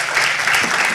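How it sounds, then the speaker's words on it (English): An audience at a pitch competition event gives a short burst of close, steady applause. "keep those hands clapping"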